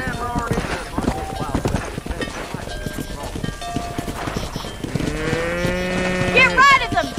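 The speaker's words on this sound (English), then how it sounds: "Herd the cows down the road." Cattle in the Red Dead Redemption video game moo loudly as a herd is driven down a road, with horse hooves clip-clopping and someone talking over the scene before long drawn-out lows near the end.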